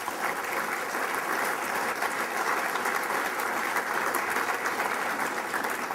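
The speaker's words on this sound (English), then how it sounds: "let's give them a round of applause" A seated audience at a Torrance, California city council gathering gives a steady, full round of applause, dense clapping that holds evenly throughout without pause or voices.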